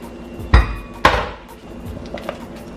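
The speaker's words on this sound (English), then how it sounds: "Just give that a final whisk." Metal whisk working through Jamaican plantain porridge in a pot: two loud, sharp knocks against the pot stand out, then a softer stirring rustle and a couple of light taps.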